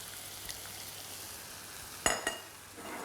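Beef mince with chopped tomatoes and tomato puree stirred in a hot pan, a soft steady sizzle broken by a couple of sharp scraping clinks of the spoon against the pan, close and alone.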